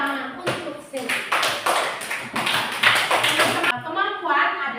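A classroom of students claps hands together in a fast, dense burst of sharp taps lasting several seconds, close and loud, ending abruptly with a voice briefly heard afterward.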